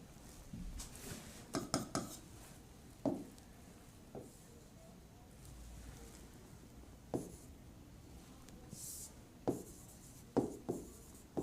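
A pen scratches across paper in short separate strokes with small pauses between them, close and fairly quiet, with no talking.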